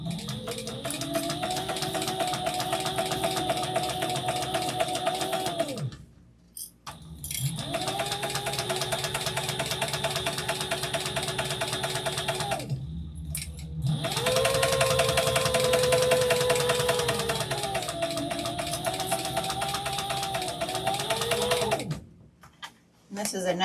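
A sewing machine back stitches a large Wish Tote with Halloween book-lover panels, its motor whirring steadily in three long runs separated by brief pauses, with a slight pitch rise in the middle run.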